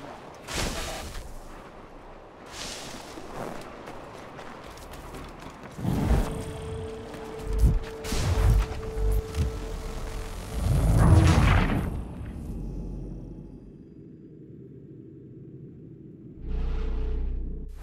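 Several booming cannon blasts with whooshing tails in Assassin's Creed 3, spaced irregularly over a rumbling game soundscape, with a steady hum and a final distant boom.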